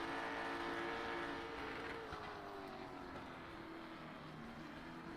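An iRacing stock car at Martinsville under night racing, its engine droning steadily with a bright harmonic whine that shifts pitch partway through, loud and continuous with no talk.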